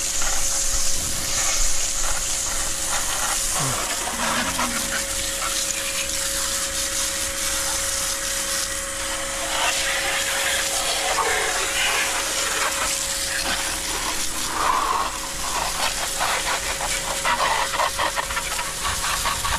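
Water from a motorized pump outlet gushes out under strong pressure in a steady, broad hiss and splash that runs unbroken throughout, fairly close, with a faint mechanical hum beneath.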